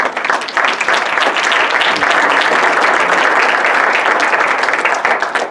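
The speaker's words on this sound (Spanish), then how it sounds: "Dale un aplauso a Jesús." A church congregation bursts into steady, loud applause that fills the room and holds at an even level from start to finish, with no voices standing out.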